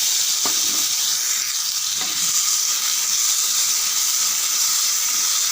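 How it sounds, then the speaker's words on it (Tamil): Two normal-size tomatoes sauté in a pan with dried red chilies, making a loud, steady sizzle with a couple of faint stirring scrapes near the start. "நல்லா ஒரு 3 நிமிஷம் வதங்கிட்டேன்."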